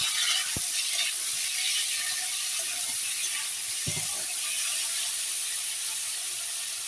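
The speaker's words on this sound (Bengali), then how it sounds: "আগে ভেজে নেবো আলুটা" Thin-cut potato strips frying in oil in a kadai give a steady, even sizzle that hisses continuously throughout, with a couple of faint clinks and no one talking.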